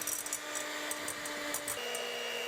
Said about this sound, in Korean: 이제 휘핑기로 반죽을 부풀려 줄게요.